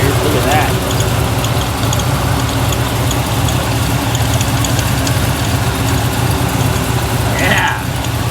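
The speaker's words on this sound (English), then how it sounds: "Both fans working as it should." A 1975 Chevrolet Corvette idles steadily with both electric radiator fans running, a constant low engine rumble layered with a broad whooshing fan roar; someone speaks briefly over it near the start and end.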